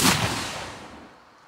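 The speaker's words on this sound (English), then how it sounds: "I took a shotgun shot from my library" A single loud shotgun blast with a sharp, bright crack that fades into a hissing, reverberant tail over about a second.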